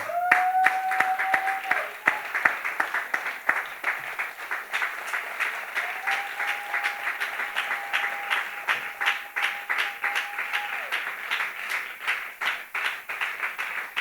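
A church congregation applauds during a French-language sermon, sustained rhythmic clapping filling the room for many seconds while a sung or held voice rises over it.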